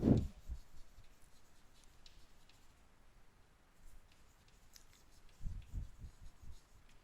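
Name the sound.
writing on a board or paper during a lesson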